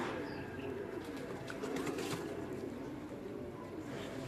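Chinese pigeons cooing softly in a loft, low throaty coos that are quiet and somewhat masked by background noise, with a few faint clicks and flutters in between.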